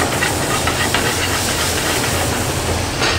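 Chopped parsley fries in butter in a pan for trout almondine, a loud, dense, steady hiss of sizzling that stays constant and close without any speech.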